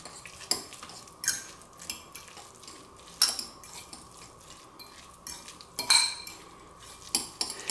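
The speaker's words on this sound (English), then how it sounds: "And then we just stir this in." A spoon scrapes and clinks against a bowl while shrimp salad with mayonnaise is mixed, giving irregular close taps and wet scraping strokes at a steady unhurried pace.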